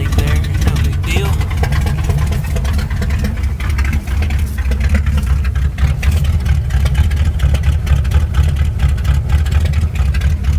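A 1972 Chevy K20 pickup truck engine idles loudly and steadily up close, with a rough, ticking exhaust chatter from a slight exhaust leak pulsing through the low rumble.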